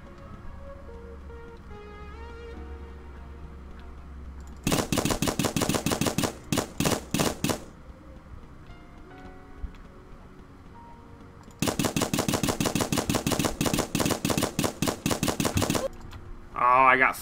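Rapid bursts of paintball gun fire in a Roblox paintball match, two long volleys of quick, sharp, evenly spaced shots separated by a quieter stretch of ambient game noise.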